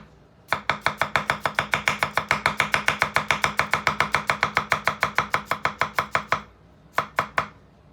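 A Damascus VG10 kiritsuke chef's knife chops food on a board in a fast, even run of about forty close, crisp strikes, then pauses before three final chops.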